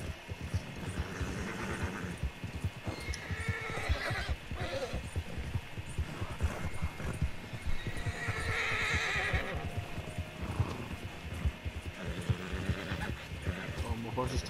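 A horse in Red Dead Online whinnies over a steady clip-clop of hooves while players chat over it, the galloping rhythm running throughout at close range.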